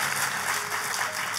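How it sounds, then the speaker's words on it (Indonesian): A church congregation applauding during a sermon, a steady wash of many hands clapping together at an even, moderate loudness throughout. "Tepuk tangannya bisa lebih meriah lagi buat Yesus Tuhan kita."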